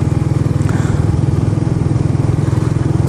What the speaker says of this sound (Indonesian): suara knalpot ya, suara knalpotnya itu ngebas bulat, dan kalau di RPM tinggi itu dia meraung gitu, menjerit juga gitu